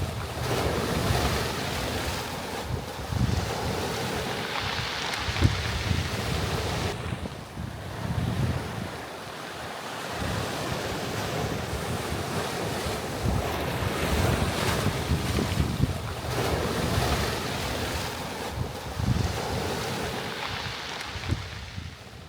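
Heavy surf crashes continuously along a rocky waterfront, with gusting coastal wind buffeting the microphone in a steady roar that swells and eases over the whole stretch.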